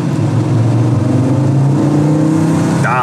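A VW Passat 32b Syncro with a five-cylinder engine revs hard from inside the car, a loud, steady droning pull that climbs smoothly in pitch before easing off near the end.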